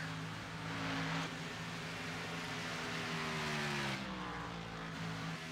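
Race car engine droning steadily at a racetrack, its pitch sliding downward as the driver lifts off the throttle, heard fairly loud with broad track noise around it.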